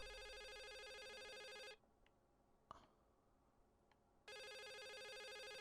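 Telephone ringing in the horror game The Suicide of Rachel Foster, a loud electronic ring cut off after about two seconds, a quiet gap with a faint click, then the ring resuming clearly.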